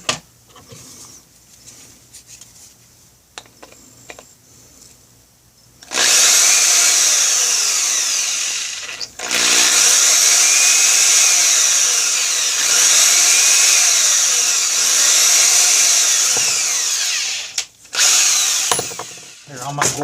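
A power drill fitted with a step bit bores through a Kydex cleaver sheath, whining loudly and steadily in long near bursts with brief pauses between them, after a few quiet seconds of handling noise at the start.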